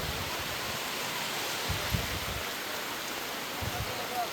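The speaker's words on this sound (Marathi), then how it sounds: "दुपारी पावसाने विश्रांती घेतली होती, त्यानंतर मात्र पुन्हा पावसाला सुरुवात झाली" Heavy rain pours over flooded streets in Bhandup, a steady, even broadband wash of water noise with faint low thumps beneath it.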